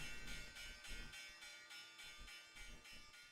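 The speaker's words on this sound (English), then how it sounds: "here's the opening bell, everybody" A stock market opening bell rings in quick, even strokes, about seven of them in a row, each clanging hit blending into a sustained metallic ring at low volume.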